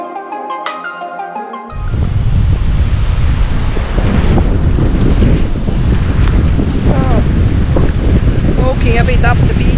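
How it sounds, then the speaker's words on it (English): Strong wind roars into the microphone on a riverside beach with boulders, after a brief moment of music, a loud, steady buffeting rumble that continues with faint voices underneath. "It's pretty windy today"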